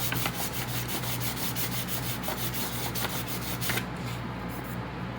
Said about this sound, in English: I am just going to lightly sand, not putting hardly any pressure. I'm just going to go around the whole cup.